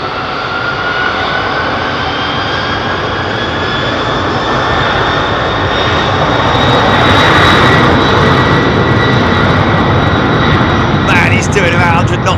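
A departing airliner at a London Heathrow takeoff roll gives a loud, continuous jet engine roar that swells slightly midway, with a high turbine whine running across it and people talking over it near the end.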